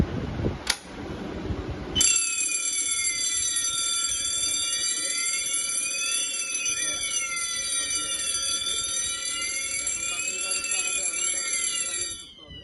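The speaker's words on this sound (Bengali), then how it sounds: "পুশ করার সাথে সাথে অ্যালার্ম তার প্রসেসগুলো করতে থাকবে।" A conventional fire alarm set off by pressing a manual call point: a brief click and tone come first, then a loud, continuous electronic siren of several sweeping and steady tones holds for about ten seconds before stopping.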